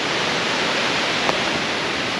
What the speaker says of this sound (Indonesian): Di bawah tu ada sungai. Boleh dengar bunyinya.